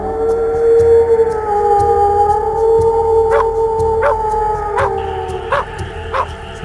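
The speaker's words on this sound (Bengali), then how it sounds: "দূরের ফাঁকা জমি থেকে কুকুর ও শেয়ালের ডাক কানে এলো" Dogs and jackals howl from open land in the distance on a dark night, long sustained wavering cries layered together, punctuated by a series of short, sharp barks or yelps in the second half.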